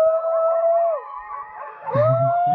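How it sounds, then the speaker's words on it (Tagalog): A single dog howls in a long, steady wavering tone in a rural mountain area, dips briefly, then rises again as deeper barks or yips from many dogs join near the end. "Grabe, daming aso sa kabila."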